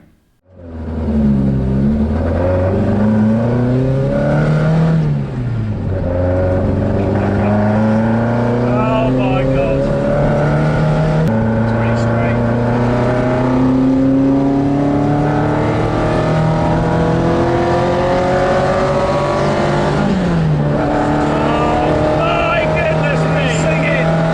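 A Ford Escort RS2000 fitted with a Cosworth engine drives past loud and close, its engine note climbing repeatedly through the revs with clear gear changes between pulls.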